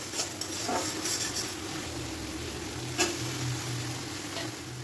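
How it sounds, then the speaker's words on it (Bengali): Potatoes frying in a pan with spices and poppy seed paste: a steady, soft, close sizzle with faint stirring clicks and no talking. "এবার ভালো মতন কষিয়ে আমি আলুগুলো দিয়ে আরেকটু ভেজে নিয়ে"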